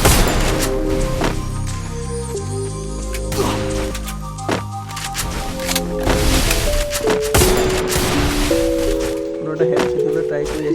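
Gunfire in a shooter video game, with repeated shots and bursts over sustained game music and effects, loud and continuous throughout.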